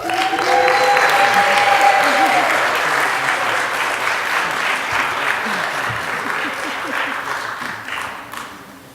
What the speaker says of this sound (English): So a big congratulations and another round of applause for our graduates